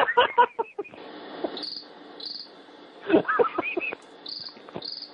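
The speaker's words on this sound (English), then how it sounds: "Nice to see the crickets have made their return to the show." Repeated high cricket chirps in short bursts sit over quieter background sounds, with a few sharp clucking or knocking noises in between.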